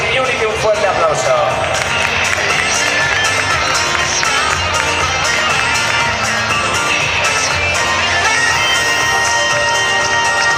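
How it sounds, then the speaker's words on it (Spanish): A large audience at a cosplay runway show at a manga convention in Valencia applauds an Assassin's Creed Unity costume with loud, continuous clapping and crowd noise that stays steady throughout. "Assassin's Creed Unity, un fuerte aplauso"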